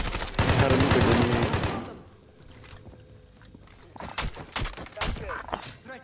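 Shotgun fire in a first-person video game: a loud, roaring burst of blasts in the opening two seconds, then quieter clicks, thuds and scattered impacts as voices chatter.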